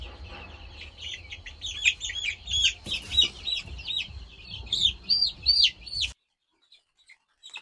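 Fourteen-day-old chicks cheep and peep in quick repeated high calls, fairly close, during a second round of vaccinations, ending abruptly in near silence after about six seconds.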